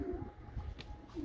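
Racing pigeons coo softly close by in a Romanian farmyard loft, a few low throaty calls rising and falling over faint background noise.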